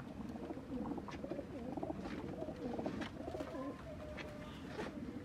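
Fancy flying pigeons for sale in a loft in Faisalabad, including Teddy, golden and Ferozpuri birds, coo steadily with overlapping throaty calls throughout, alongside a few faint chirps and no talking.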